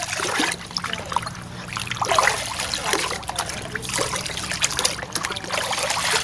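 Fermented rice-water hormone liquid poured from a measuring cup onto garden soil, a continuous soft trickle and splash that runs steadily throughout, close by.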